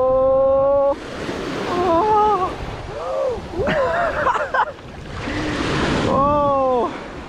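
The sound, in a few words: sea waves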